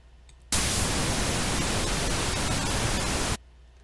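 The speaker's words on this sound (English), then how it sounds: "this constant stream of white noise coming through as a source for the modulation" A steady burst of harsh white noise from a noise generator in Bitwig switches on abruptly, holds at constant loudness for about three seconds, then cuts off.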